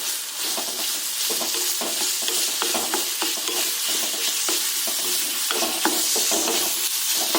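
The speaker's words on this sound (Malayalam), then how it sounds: "ക്യാരറ്റ് ഇട്ട് കൊടുത്തിട്ട് സവാളയും ക്യാരറ്റും കൂടെ ഒന്ന് മിക്സ് ചെയ്യാം." Chopped onion and carrot frying in a pan for a vegetable thoran while being stirred, with a steady bright sizzle and frequent scraping strokes, close and fairly loud.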